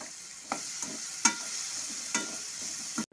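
Ground spice masala with a splash of water sautéing over medium heat in a pan for a banana-stem curry: a quiet, steady sizzle broken by several sharp scraping stirs at irregular intervals.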